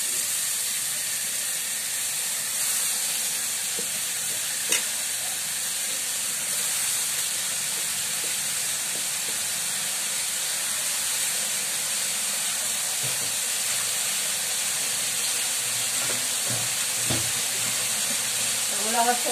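Spinach greens tossed into a hot pan with turmeric, giving a steady, soft hiss and sizzle that carries on evenly, broken by a few faint clinks and stirring sounds.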